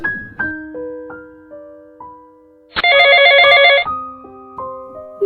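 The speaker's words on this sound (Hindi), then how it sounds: "मैं ये फोन अटेंड कर कर आता हूँ" A phone ringtone plays a loud melodic chime in a bright sustained burst, with softer tonal notes before and after, close and clear with no talking.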